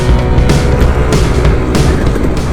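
A KTM 250 dirt bike engine climbs a logged trail, loud and close with a rough fluctuating drone, buffeting wind and surges of throttle.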